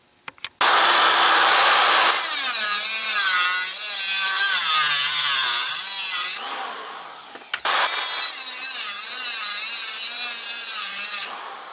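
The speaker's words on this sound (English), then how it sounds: "Now I'm going to take a grinder and cut this off. This is hardened steel, obviously." A Harbor Freight angle grinder cuts through a hardened steel ball bearing, giving a loud, close, continuous high-pitched grinding whine in two long stretches split by a brief pause, with no talking.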